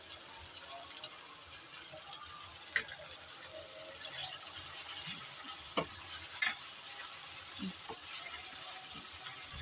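Mutton sizzles with garlic ginger paste, turmeric and salt in a pot, a steady close frying hiss broken now and then by light taps and scrapes of stirring.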